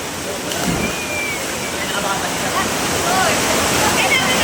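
A waterfall roars in a continuous, loud wash of rushing water close by, with a brief voice and faint splashing mixed into the steady torrent.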